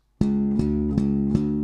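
Slap bass notes played without lifting the fretting finger to mute them ring on into each other, four evenly spaced plucks each with a sharp attack and a sustained, unmuted tone.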